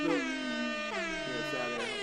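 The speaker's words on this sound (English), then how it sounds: "Sad segue, sad music, sad air horns." An air horn sound effect blares in a loud, sustained tone, with the pitch sliding down in three drawn-out, mournful blasts and no pause between them.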